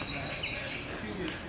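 Faint, thin calls of an endemic bird chirp high over a steady outdoor hiss in the courtyard of Fasilides Bath in Gondar, Ethiopia, with a few brief whistled notes in the background.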